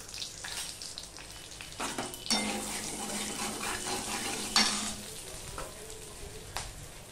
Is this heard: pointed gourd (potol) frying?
yes